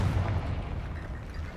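A Confringo blasting spell in Hogwarts Legacy detonates as a deep, rumbling boom that fills the mix and slowly decays, loud and close.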